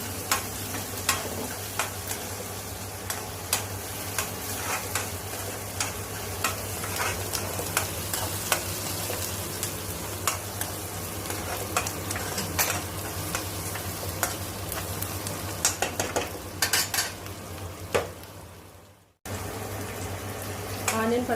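Onions and green chilies, salted to speed browning, fry and are stirred in a pan, giving a steady close sizzle with scraping utensil clicks throughout, briefly cut near the end before resuming.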